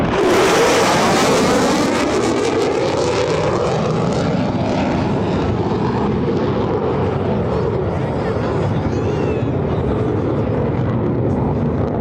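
A Lockheed Martin F-35A Lightning II fighter jet flies a demonstration at the EAA AirVenture 2025 air show, its loud, continuous jet roar sweeping past and then slowly fading into a broad rumble.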